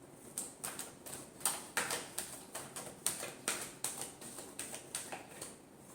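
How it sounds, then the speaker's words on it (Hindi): Tarot cards are shuffled by hand in a quiet room, about twenty soft, rhythmic papery slaps and swishes that repeat at an even pace, faint and close. "Last shuffle."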